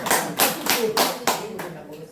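Hand claps from listeners at a senior citizens' center lecture in Uiwang, about five distinct bursts spaced roughly a third of a second apart, close and fairly loud, with some voice mixed in.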